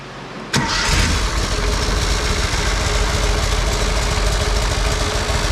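A Walker riding mower's engine, primed with no choke, catches abruptly after a brief quiet moment and settles straight into a steady, loud, close idle that runs without a break.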